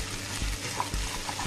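Potatoes and vegetables for a Spanish omelette are stirred as they fry in a pan, giving a steady soft sizzle with a few spoon scrapes against the pan, close and fairly quiet.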